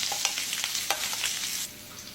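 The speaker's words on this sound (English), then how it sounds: "turn your heat to low and add a stick of butter. Add some crushed garlic, rosemary, thyme, and orange peel." Butter with crushed garlic, rosemary, thyme and orange peel sizzles steadily in a pan over low heat, with a few sharp crackles and spatters over about two seconds, then quieting near the end.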